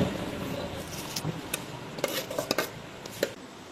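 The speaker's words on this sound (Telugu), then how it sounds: "మళ్ళీ మూత పెడేస్తున్నాను నేను" A lid being set back on a cooking pot of gongura and chicken over a charcoal stove: a few sharp metallic clinks and taps in quick succession over a faint background hiss.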